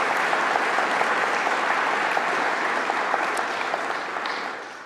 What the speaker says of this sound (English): So if we could give a round of applause to all of our community sponsors, but especially the UK Python Association.